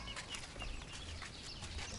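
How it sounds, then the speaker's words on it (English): Chickens cluck faintly in the yard of a guesthouse in the 4000 Islands area of Laos, soft scattered calls over quiet outdoor ambience. "There's chicken here."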